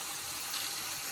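Water runs from a tap through a Waterdrop RF10 under-sink filter cartridge, a steady hissing gush heard alone and fairly faint.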